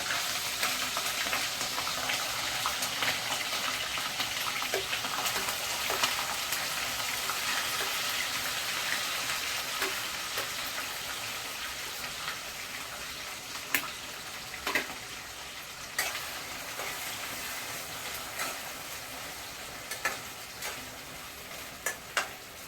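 Onion paste, green chili and tomato paste fry in a hot pan for dal makhani, giving a steady loud sizzle throughout with occasional stirring clicks and pops near the end, no voices.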